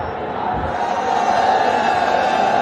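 A large stadium crowd at a Bangladesh vs Zimbabwe one-day international cricket match murmurs and swells in a steady roar, with occasional faint voices mixed in.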